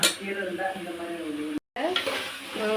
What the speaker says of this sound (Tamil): நல்லா தக்காளி வதங்கி வந்துருச்சு